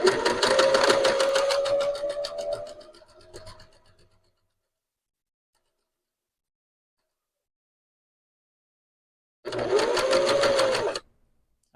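A sewing machine stitches tiny curves in fabric for doll arms and legs, running steadily for about four seconds, stopping, then giving one more short burst after a long silence.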